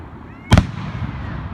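A single sharp firework burst at a country club show in Elmsford, New York, loud against a steady outdoor background with faint crowd murmur around it.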